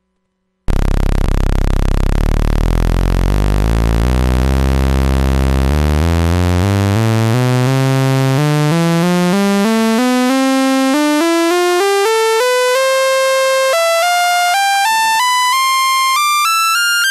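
A sawtooth wave from a GSE 4027 VCO Eurorack synthesizer module, modelled on the ARP 2600 and Odyssey, sweeps steadily upward in pitch from a deep buzzing drone to a high, thin, harmonically rich whine, loud and unbroken.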